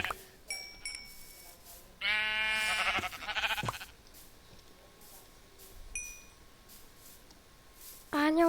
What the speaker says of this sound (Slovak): A idem zabiť tie ovce.